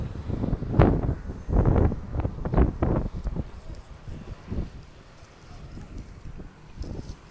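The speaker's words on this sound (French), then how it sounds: "J'espère qu'on m'entend bien avec le vent." Strong gusts of seaside wind buffet the microphone in heavy rumbling bursts, then ease into a softer, steadier blowing.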